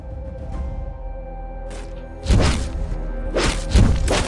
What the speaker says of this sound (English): Allied turret destroyed.